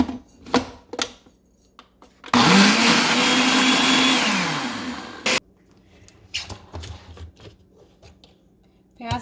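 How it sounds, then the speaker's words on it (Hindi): Kitchen blender grinding onions into a smooth paste for Hyderabadi masala chicken, a loud steady whirring roar lasting about three seconds that winds down, with quieter kitchen clatter before and after. "मैं इसको ब्लेंड करूँगी।"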